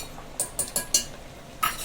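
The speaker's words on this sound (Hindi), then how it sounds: "इसमें अदरक लहसुन का पेस्ट डाल करके हमने इसको अच्छे से चला लिया है" A spoon stirs ginger garlic paste into mutton in a cooking pot, giving four quick scraping strokes in a row, a pause, then one more scrape, all fairly close with no talking.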